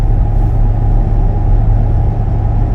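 Steady tire road noise from Milestar Patagonia A/T Pro all-terrain tires on a Ford F-250 6.7 cruising at 70 mph: a constant low rumble and hum from inside the cab, loud and unbroken throughout.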